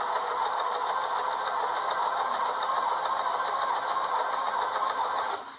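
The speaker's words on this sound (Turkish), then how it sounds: "Ayak kumaş üzerinde gidip geliyor ve çift dikiş yapıyor." A Pfaff sewing machine runs a stretch stitch on fabric, giving a steady, close mechanical whirr with a rapid rhythmic clatter that continues evenly until it eases off at the end.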